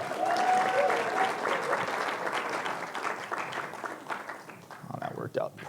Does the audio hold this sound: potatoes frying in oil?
no